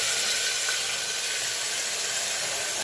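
Spices and curry leaves tempering in hot oil, a continuous loud, even hiss of sizzling that holds steady throughout, with no voices.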